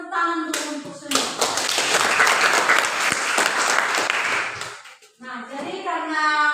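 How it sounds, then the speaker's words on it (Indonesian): Classroom applause from a group of students, a burst of clapping lasting several seconds between stretches of a teacher talking in Indonesian, with young voices mixed in. "jadi tepuk tangan dulu untuk semua"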